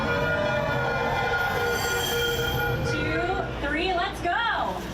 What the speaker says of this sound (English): TransLink says the new Mark V train will be hitting the tracks on Friday.